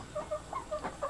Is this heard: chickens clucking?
yes